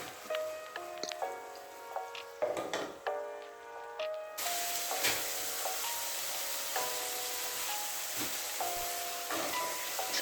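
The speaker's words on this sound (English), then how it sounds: "So you just allow everything to fry well." Grated pepper mix of atarodo and onion frying in a pot for okra soup: a steady quiet sizzle and hiss running throughout, under faint clinks and tones.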